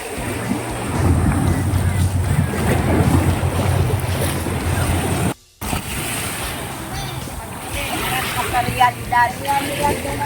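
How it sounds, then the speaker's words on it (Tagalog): Strong sea waves surge and wash onto the shore at a beach resort, a loud, steady roar of surf mixed with gusty wind buffeting the microphone, broken by a brief dropout midway. "Medyo malakas lang ang alon that time pero napakalinaw at napakalinis ng dagat dito."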